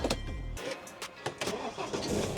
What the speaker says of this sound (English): Just going to start the car.